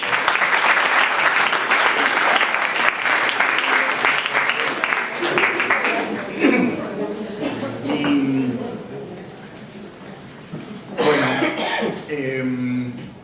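Audience applause in a hall fills the first six seconds, loud and dense, then fades into coughs and someone speaking with brief bursts of clapping or reaction near the end.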